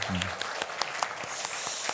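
Church congregation applauding during a Sunday evening worship service, a dense steady wash of clapping with a few sharper claps standing out and faint voices briefly underneath.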